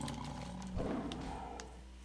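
A cougar roars once in World of Warcraft, a short growling burst rising out of a hum of game ambience and fading quickly.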